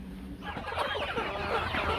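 Desi hens clucking on a poultry farm, several birds chattering at a moderate distance in a steady, overlapping stream over a low background hum.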